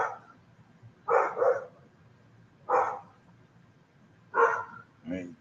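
A dog barks in short bursts, four or five separate yips and woofs spaced a second or two apart, with a quiet background between them.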